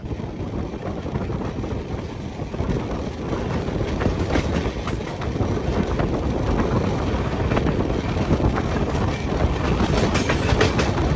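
A Humsafar Express train rumbles steadily along the rails with a continuous clattering roar, loud and close, building slightly in intensity over time.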